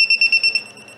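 Digital torque screwdriver giving a run of five quick, loud, shrill electronic beeps in steady rhythm close up, then fading into quiet.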